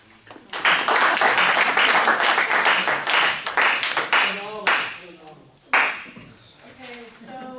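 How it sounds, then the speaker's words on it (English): Classroom audience breaks into a burst of clapping that swells quickly and fades out, followed by a single later clap and voices talking. "Come on, just one clap."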